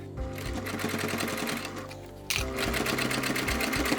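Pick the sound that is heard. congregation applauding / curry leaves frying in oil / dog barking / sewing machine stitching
sewing machine stitching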